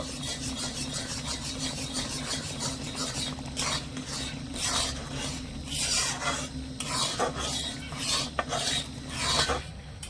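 Raw green mango pulp mixed with carom seeds and a little green food colouring is stirred steadily in a pan, a continuous close rasping scrape with no talk.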